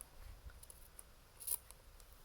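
Scissors cut through fabric for a small handmade ornament, giving a few faint, close snips with one sharper crisp cut in the middle.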